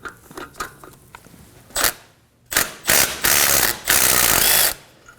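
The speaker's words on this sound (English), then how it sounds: "Using a 12mm socket, we're going to be removing the bolt that holds the hose to the bracket." A ratchet fitted with a 12mm socket loosens the bolt holding a brake hose to its bracket on a 2014-2020 Acura MDX, giving a few quick clicks and then several longer, loud ratcheting runs up close.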